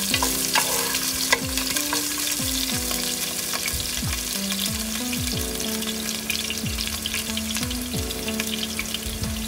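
Ginger and garlic sizzle and crackle steadily in a hot pan, with repeated scraping stirs from a spatula, close and continuous with no talking.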